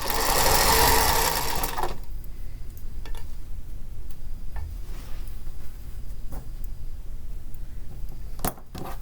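A sewing machine stitches a quilt block in a short, fast, loud whirring burst of about two seconds, followed by quiet with scattered light ticks and clicks of handling.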